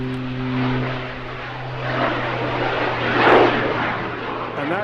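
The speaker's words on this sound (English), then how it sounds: "that distinctive sound that added to the engine there was the sound of two little jet engines" A display aircraft at a seaside airshow, its main engine joined by the sound of two small lift jet engines, makes a steady broadband roar that swells mid-clip, with a commentator's voice likely running over it.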